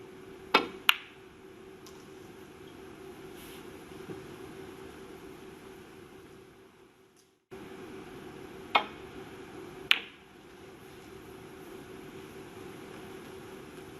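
Snooker cue striking the ball at a Scottish Open match between Ronnie O'Sullivan and Mark Selby, a few sharp faint clicks of cue and ball over quiet arena hush.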